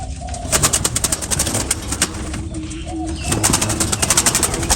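Soft, low cooing from a dove repeats a few times over steady outdoor background noise, moderately close and not very loud.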